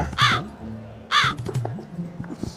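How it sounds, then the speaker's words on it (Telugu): Two loud, harsh crow caws come close together near the start, then quieter scattered background sounds follow. "ఏమిరా కాకిగోల"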